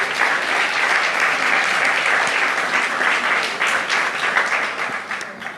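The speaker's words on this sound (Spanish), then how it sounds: "un aplauso a Jesús" A congregation applauds during a church sermon, dense sustained clapping filling the room at a steady, loud level with faint voices mixed in.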